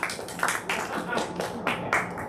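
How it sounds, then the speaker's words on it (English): Studio audience at an improv comedy show clapping to vote for a game, with several bursts of applause rising and falling in loudness, fairly close and without speech. "I want you to clap the loudest."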